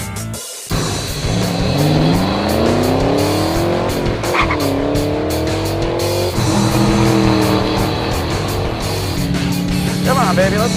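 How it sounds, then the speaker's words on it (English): A supercharged SLP Camaro launches at Fontana Raceway with a loud, close engine roar that climbs through the revs, drops at a shift, then rises again. Tire noise runs under it, and a voice calls out near the end. "we are ready to track test our SLP blown Camaro here at Fontana"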